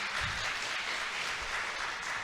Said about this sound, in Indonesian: Boleh minta tepuk tangannya dulu nih